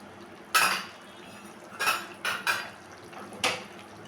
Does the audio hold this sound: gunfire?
no